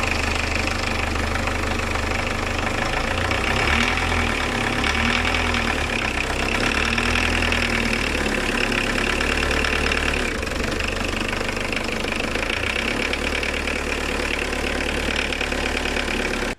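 A 1959 VW Beetle fitted with a diesel engine idling steadily, with a rhythmic knocking clatter running through a continuous low engine rumble, close and alone without talk.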